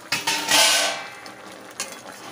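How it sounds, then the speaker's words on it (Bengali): A gas stove knob is turned off in a home kitchen, giving a brief close mechanical click and hiss followed by light clinks and a quiet room, with no talking. "আমার গ্যাসটা আমি অফ করে দিলাম।"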